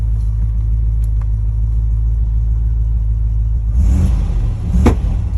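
A V8 P38 Range Rover engine runs on LPG, idling with a steady, close, low rumble before a brief rise in revs near the end.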